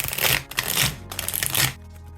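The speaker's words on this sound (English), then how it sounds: "take the deck without the jokers, shuffle, and deal 6 cards to each player" A deck of playing cards is shuffled for a game of cribbage, with two quick riffling bursts of crisp flutter and a softer pause between them, close by and clear, with no talk.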